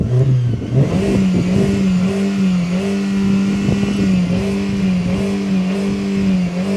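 A Seat Leon with a 1.6 BSE engine and twin-pipe exhaust revs up close, its droning exhaust note climbing and holding steady with rhythmic pulsing and throttle blips, loud and alone.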